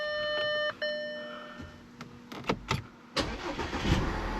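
A warning chime beeps from an Audi A4 Avant before its engine, repaired with a new fuse, cranks in a few short bursts and then catches and settles into a rough idle, close and alone.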